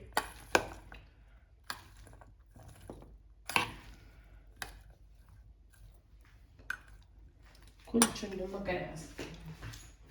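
A spoon mixing peanut chaat in a bowl gives a series of sharp scraping clicks and clinks, spaced irregularly and fairly close, ending in a longer busier burst of stirring and scraping.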